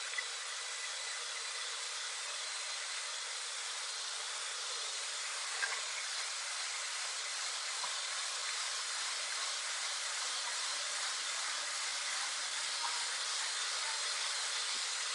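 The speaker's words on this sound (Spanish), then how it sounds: "Esto lo vamos a batir unos minutos a integrar" An electric mixer beats cupcake batter in a steady, even whir that holds for about fifteen seconds with little change in pitch or loudness, heard close and alone.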